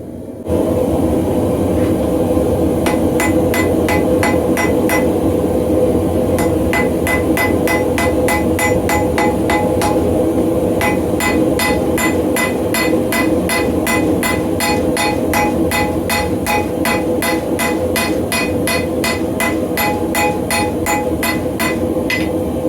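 A hammer forges a railroad spike into a San Mai knife blade, its cross peen striking in fast, steady runs of sharp, ringing blows, close and loud over the constant roar of a forge, with no talking.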